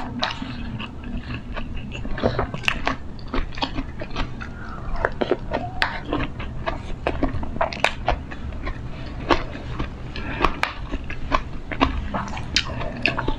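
Close-up eating of canned sardines with crunchy raw onion, a steady run of sharp bites and chewing crunches under low background noise, with no talk.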